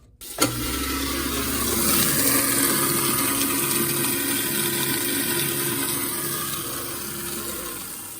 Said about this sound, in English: All right, so let's go turn on the garbage disposal.